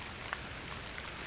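Light rain falling on a chilly October morning outdoors, a soft, steady, faint hiss with a few distinct drips.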